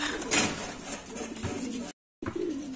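Racing pigeons come into a loft, with soft nearby cooing and fluttering and a faint scrape and knock against a steady background. Speech is faint or absent.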